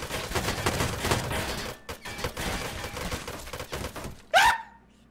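Gunfire in the survival game Rust: a dense stretch of rapid shots gives way to a sharp, loud single blast near the end, followed by a quick fade to quiet.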